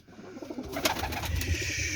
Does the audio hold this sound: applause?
no